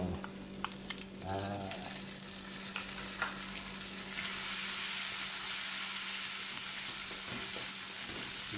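Shrimp frying in a pan for a stir-fry of long beans, with a steady, close sizzle and a few early scraping clicks before the hiss swells and holds evenly.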